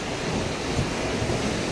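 Large waves crash onto coastal rocks at Diveagar beach in Konkan, a dense continuous rumbling roar up close, with no voices.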